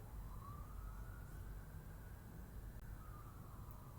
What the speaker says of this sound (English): You hear that siren in the background?